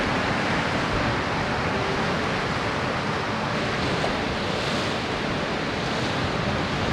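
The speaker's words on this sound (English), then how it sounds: "Wow, the waves are so powerful." Powerful ocean waves crash and roar continuously against a Canadian coastline, a loud, dense wash of surf with wind buffeting the microphone and no voices.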